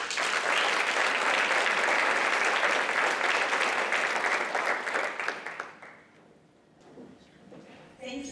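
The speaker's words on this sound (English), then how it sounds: "Please join me in welcoming Antoinette to this stage." Audience applause at a women's conference welcomes a speaker to the stage, loud and dense for about five seconds before fading and dying away, with a brief stir of noise at the end.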